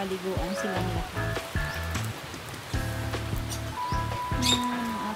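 Rain falling outdoors on potted plants, a peace lily among them, patters steadily while someone talks over it and scattered drips and taps come through close by.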